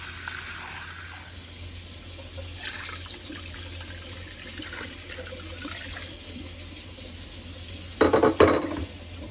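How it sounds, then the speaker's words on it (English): Water trickles and splashes into a pot of vegetable beef soup over a faint background hiss, ending in a louder burst of pouring and clanking near the end. "I am gonna add water, though."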